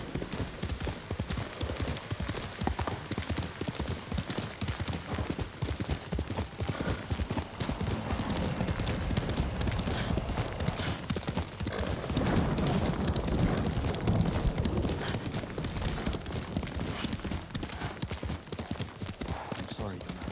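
Rapid rhythmic hoofbeats of a galloping horse in the video game Ghost of Tsushima, continuous and close, with a brief whinny-like cry partway through.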